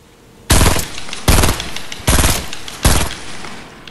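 Gunfire in the video game Fortnite: four loud, evenly spaced bursts of rapid shots, each cutting off sharply, with no talk over them.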